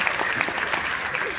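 Crowd in an auditorium clapping during a talk, a brief, even burst of many hands applauding together, steady and moderately loud throughout.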